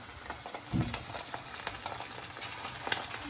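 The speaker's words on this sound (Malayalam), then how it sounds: "ഈ ഉണ്ടാക്കി വെച്ചിരിക്കുന്ന ചിക്കൻ നമുക്ക് ഈ എണ്ണയിലിട്ട് വറുത്ത് കോരിയെടുക്കാം" Chicken pieces for Kerala-style chilli chicken dropped into hot oil and deep fried, a steady close sizzle and crackle with a brief louder burst as pieces go in, no talking.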